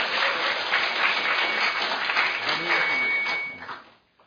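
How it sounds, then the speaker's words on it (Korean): Guests at a Korean political policy roundtable give a warm round of applause for an introduced former party leader, dense steady clapping from a sizable crowd that fades out near the end. "큰 박수로 환영해 주시기 바랍니다."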